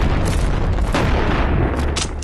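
Shotgun blasts in the Animal Company VR game, a dense, loud burst of booming gunfire sustained across the whole moment with no talking.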